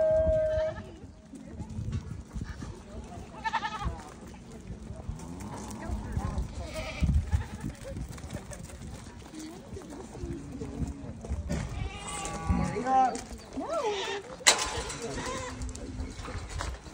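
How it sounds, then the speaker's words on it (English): White goats on an essential oil farm bleating several times among farm ambience and bird calls, with people talking and exclaiming nearby throughout. "Okay, so white goats on a essential oil farm."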